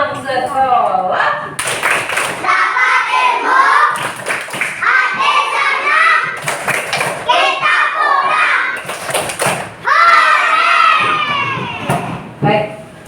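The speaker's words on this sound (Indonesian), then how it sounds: "ada yang namanya tepuk pulang sekolah" Schoolchildren in an Indonesian classroom perform the going-home clapping chant, loud group clapping in rhythmic bursts alternating with chanted shouts, led by a teacher's voice.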